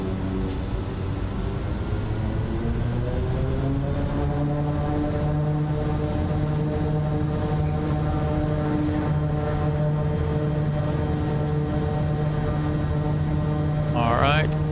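Kodiak 100 turboprop on its takeoff run, a loud steady propeller and engine drone whose tones climb gradually as power and speed build, heard from inside the cabin with a short rising chirp near the end.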